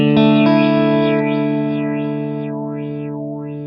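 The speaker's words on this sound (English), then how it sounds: "So now if we start to modulate that sound, let's do it with the triangle wave." Strymon Nightsky time-warped reverb pedal with its modulation set to a triangle wave: a loud, sustained, distorted chord whose upper shimmer sweeps steadily up and down in slow waves, alone with no voices.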